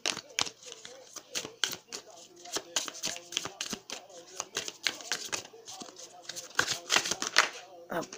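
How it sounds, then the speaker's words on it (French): Tarot cards are shuffled and one is drawn from the deck, giving a rapid series of crisp riffling slaps and papery flicks, close and fairly loud, with someone talking over parts of it. "On va tirer une dernière carte s'il vous plaît, encore une"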